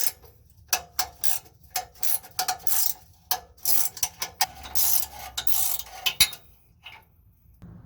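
A ratchet clicks in quick irregular bursts while loosening exhaust bolts on a 2010-2014 Subaru Legacy or Outback, close and fairly loud with short pauses between strokes, then goes quiet.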